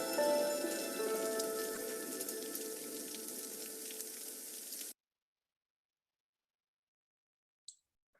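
Steady rain falls, a dense crackling patter on surfaces lasting several seconds before cutting off abruptly to near silence, broken only by a faint brief click.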